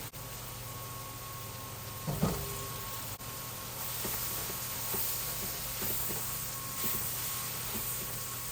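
Onions and thyme frying in a pan as part of a homemade green bean casserole, a steady close hiss of sizzling with a brief clatter as they go in and light stirring noises.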